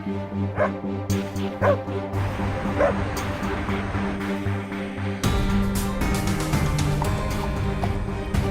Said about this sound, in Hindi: ये अचानक कुत्ते क्यों भौंकने लगे?